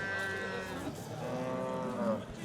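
Cows moo repeatedly at a busy livestock bazaar in Fergana, with long drawn-out calls rising and falling over a steady crowd murmur, fairly close and loud.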